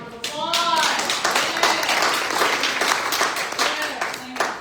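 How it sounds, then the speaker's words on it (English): An audience at a business lunch talk on fraud gives a burst of applause, with many hands clapping steadily for several seconds while voices speak over it. "Let's give them a round of applause"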